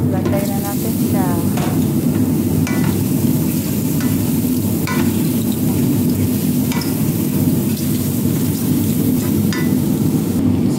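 Shrimp sizzles and fries loudly in a pan seasoned with black pepper, baharat mix and black lemon powder, a steady close crackle with occasional stirring clicks and scrapes throughout.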